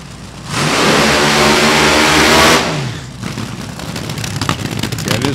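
A Mindy Fry high-speed motorsports drag car revs hard at a drag racing reunion before a qualifying run, a loud sustained roar that cuts off after a couple of seconds, leaving a rough, crackling idle.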